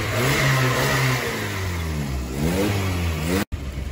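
Volkswagen Gol car engine revved hard and close, its pitch swinging up and down through several loud revs before a brief cutoff and a return of the roar.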